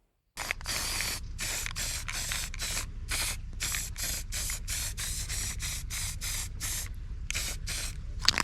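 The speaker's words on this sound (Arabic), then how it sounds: "صافي بديت كنصبغها حتى صبغتها كاملة، وغادي نخليها تنشف" Spray paint hissing onto a small decorative piece in repeated short bursts, about twenty quick sprays in a steady rhythm, loud and close with no talk.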